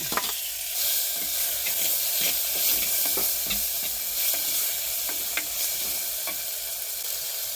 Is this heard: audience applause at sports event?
no